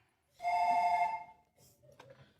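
A mobile phone ringtone chimes once in a bright melodic burst aboard a plane, fairly close, then fades into faint movement and a brief click.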